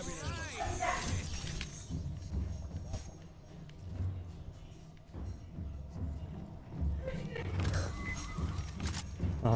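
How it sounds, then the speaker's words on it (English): A dog barks and yips in bursts while playing with a hanger indoors, with a person talking over and between the barks. "The dog got a hold of a hanger somehow"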